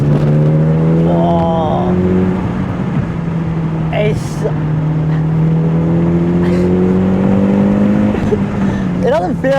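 A Mitsubishi Lancer Evo V engine drones loud and close while driving, pitch climbing and dropping through rev changes, with a brief exclaimed word from the driver over it.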